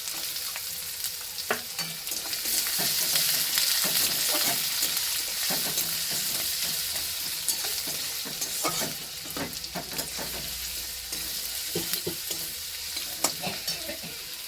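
Onions sizzle in hot oil in a pan while a utensil stirs and scrapes them, steady frying hiss with frequent sharp clanks and scrapes, no talking.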